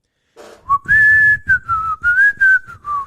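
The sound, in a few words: person whistling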